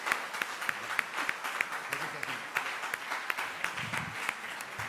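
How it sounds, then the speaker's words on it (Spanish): At a tarot congress in Barcelona, a conference audience applauds a speaker with steady, crisp clapping for several seconds, while voices murmur underneath. "Yo pido aquí otro aplauso porque ha estado genial."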